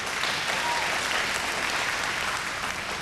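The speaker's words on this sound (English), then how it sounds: "Round of applause, please, for the Cosmopolitan." A theatre audience at the Cosmopolitan gives a dense, continuous round of applause during a televised vocal competition, a steady wash of many hands clapping at even volume for a few seconds.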